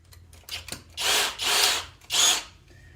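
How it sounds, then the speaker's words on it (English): A power drill removes fasteners underneath a 2016 Chevy Volt, whirring in three loud bursts after a few short taps and clicks, close and without talk. "they're moving nice enough that I feel confident just going straight to using a drill"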